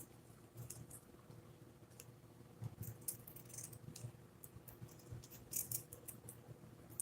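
Scissors snip along a polka-dot turquoise paper strip, cutting it in half lengthwise during journaling, with a scatter of faint, quick crisp cuts and light rustling in a quiet room.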